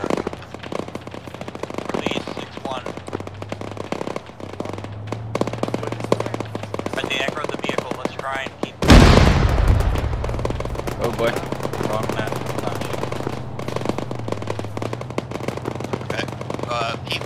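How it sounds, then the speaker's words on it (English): Automatic and rifle fire rattles through an Arma 3 infantry firefight, steady bursts and shots continuing throughout with a loud sharp volley midway, while a low engine drone hums underneath and voices talk over the action. "They're firing at the back."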